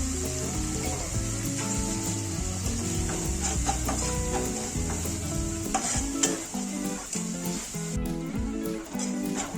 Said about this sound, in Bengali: আমি মশলাগুলো নিয়েছিলাম সেগুলো সব দিয়ে দেবো। তারপর নাড়াচাড়া করতে থাকবো।